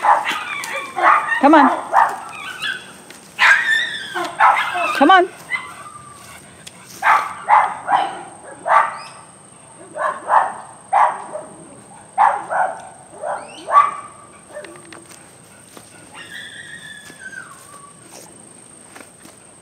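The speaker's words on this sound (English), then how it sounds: "Listen to your cousins barking up there." Several dogs bark in quick repeated bursts at middle distance, with yips in between. A person speaks encouragement over them and footsteps can be heard.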